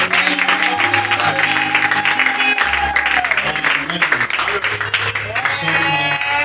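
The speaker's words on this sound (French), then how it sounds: "Est-ce que nous pouvons offrir une offrande d'acclamation?" During a church revival service, the congregation claps loudly throughout over sustained music from keyboard and bass, with voices rising above the clapping.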